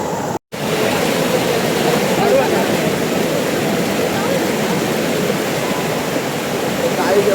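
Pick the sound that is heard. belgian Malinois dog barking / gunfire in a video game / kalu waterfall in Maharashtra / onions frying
kalu waterfall in Maharashtra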